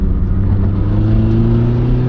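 A car with an electric turbo torque amp engaged cruises in fourth gear at low revs, a steady close engine drone with a thin high whine rising in partway through.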